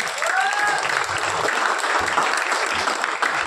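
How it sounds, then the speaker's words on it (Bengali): Audience applause for under-19 bodybuilding contestants at a competition, dense steady clapping from a crowd throughout, loud and close, with a brief voice heard faintly over it. "আর একবার ওদের সকলের জন্য একবার জোরে হাততালি।"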